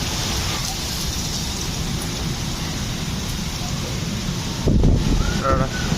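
Heavy rain lashes down in a storm in Dubai, with strong wind outside a window; a dense, continuous roar of rainfall holds throughout, briefly swelling louder near the end.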